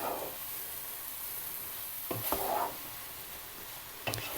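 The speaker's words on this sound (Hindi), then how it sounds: "इसको अच्छी तरह मिक्स कर लेंगे।" Steady sizzling from a hot pan with a few scraping strokes of a spoon moving a spiced chicken keema mixture around.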